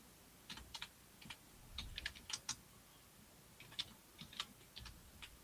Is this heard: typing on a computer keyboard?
yes